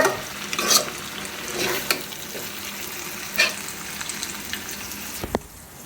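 Chicken and potato curry cooking in a pan, with soft sizzling under a few sharp stirring scrapes and clinks of a spoon against the pan, near and moderately loud, no voices.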